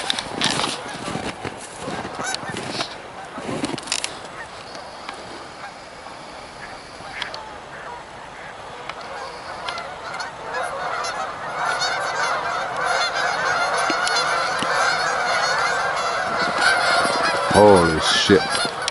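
Geese honking loudly and repeatedly on an eagle-watching morning outdoors, a dense chorus of calls that swells and grows nearer toward the end, with some brief rustling and handling noise early on.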